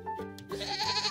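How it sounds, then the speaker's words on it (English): A sheep's bleat sounds in a children's song about animals on a bus: one short wavering bleat over a steady musical backing, clear and close. "The sheep on the bus go ba-ba-ba"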